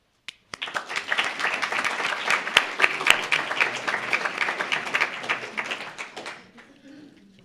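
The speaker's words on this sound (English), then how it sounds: "I want all of us to give a round of applause to the membership of the Emeritus" An audience at a college lecture event breaks into applause, starting with a few scattered claps, swelling into steady clapping, then thinning out and trailing off near the end.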